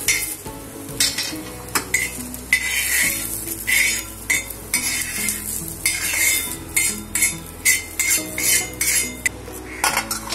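Metal spoon scraping and clinking against a pan while scooping out reddish fried onion, with a light sizzle underneath; busy, repeated close scrapes and taps without speech.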